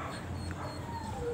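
A large dog whimpers with a few short, thin whines over a busy background, close and fairly faint, with no talking.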